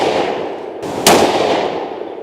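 A single sharp rifle shot fired outdoors while testing a Discoveropt HD GEN-II 5-30x56 first focal plane scope, loud and abrupt, standing out from a constant rushing background and trailing off quickly.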